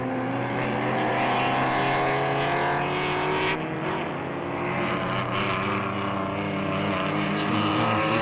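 A BMW 325i race car, number 35 in Vina livery with a straight-six engine, racing at Jarama circuit; a loud, continuous harmonic engine drone holds steady throughout, with a brief dip and a change of pitch midway.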